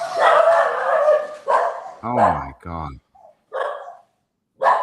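A dog barks a few times, loud and close, in short bursts mixed with a person talking and exclaiming.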